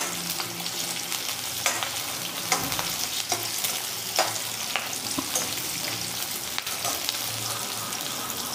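Garlic cloves and onion fry in hot oil for matar paneer, giving a dense, continuous sizzle up close with scattered spoon taps and stirring scrapes throughout.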